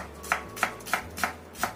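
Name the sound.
slicing garlic and shallots finely with a knife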